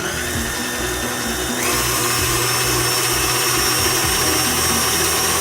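An electric mixer whisks Italian meringue in a bowl, giving a loud, steady motor whir with a slight shift in pitch partway through, running alone and without any talking.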